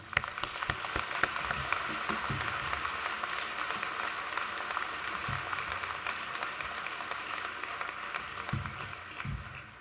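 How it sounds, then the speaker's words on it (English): Sustained audience applause for graduates at a graduation ceremony, a dense, steady wash of many hands clapping with a few light voices mixed in, continuing evenly throughout without talk over it. "please join me in giving them a round of applause for their achievement"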